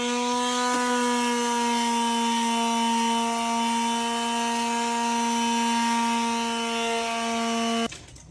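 Power sander working steadily on wood being prepared for a shelf, a loud continuous tonal whine with strong harmonics holding for about eight seconds before cutting off abruptly near the end.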